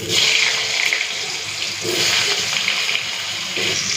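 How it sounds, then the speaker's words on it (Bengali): Cut, washed potatoes drop into hot oil for a Bengali fish-curry meal, setting off a loud, steady hissing sizzle that runs without a break and swells slightly in places, with no voices. "তেলটা গরম হয়ে গেছে এখন দিয়ে দিচ্ছি কেটে ধুয়ে রাখা আলু"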